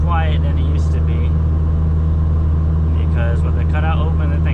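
A big-turbo Dodge Caliber SRT4 with its exhaust cutout closed hums with a steady low engine drone from inside the cabin, while someone talks over it.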